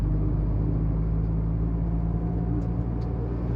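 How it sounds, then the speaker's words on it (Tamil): A Tata Altroz Racer with a dual exhaust accelerates in fourth gear at around 60 km/h, giving a continuous, loud, low engine rumble from inside the car with no talk over it. "நமக்கு எக்ஸாஸ்ட்டுமே டியூவல் எக்ஸாஸ்ட் கொடுத்துருக்காங்க, அதனால் சவுண்டுமே கொஞ்சம் ஸ்போர்ட்டியாக கேட்குது"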